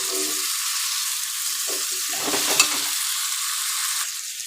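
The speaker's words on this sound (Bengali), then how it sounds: "এবার আমি আলুটা দিয়ে দেবো আর গাটিটা দিয়ে দেবো আর দেবো গাজর, দিয়ে একটু কষিয়ে নেব।" Potato and carrot being stir-fried in a pan for a mixed vegetable curry give a steady hiss of sizzling, with a few louder scraping stirs midway, and no voices.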